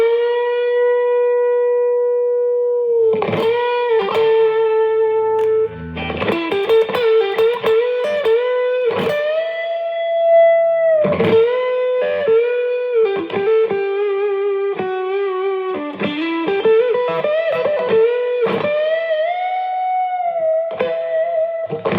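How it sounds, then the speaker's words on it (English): Electric guitar lead played through a compressor and a Tube Screamer overdrive pedal, with long sustained singing notes and bends broken by quick picked runs, close and loud with no talking. "when I add the drive in, it gives you this nice big soaring lead sound, even though it's just a tube screamer"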